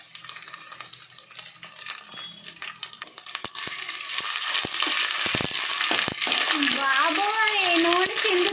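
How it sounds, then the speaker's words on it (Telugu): Ginger paste frying in hot oil crackles and spits, the sizzle swelling to a loud, steady hiss with a few clinks, and a voice briefly heard near the end. "బాబోయ్ నూనె చిందుతుంది"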